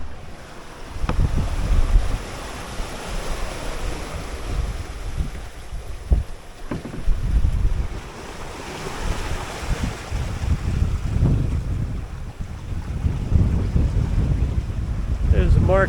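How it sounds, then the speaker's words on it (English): Strong wind of about 19-20 knots roars over a 21-foot home-built sailboat under full sail on the open Atlantic, with steady gusty buffeting and wave wash throughout. "Well, the wind has certainly arrived. It's blowing about 19-20 knots, and Wave Rover's making 5+ knots, and we're under full sail."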